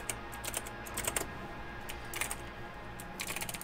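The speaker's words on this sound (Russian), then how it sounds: "Я пробую все клавиши на клавиатуре." Keys pressed on a computer keyboard, faint clustered clicks and taps in quick irregular bursts, fairly quiet against a low background hum, with no speech.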